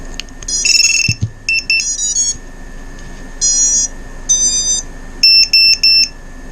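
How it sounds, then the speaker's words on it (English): Electronic beeper on an iFlight Nazgul 5 FPV quadcopter with a Blitz 45A ESC, T-motor F7 flight controller and King 2207.5 1750kV motors, sounding short high-pitched tonal beeps in irregular bursts and melodic sequences, loud and close, after a low thump. "Let's try the beeper."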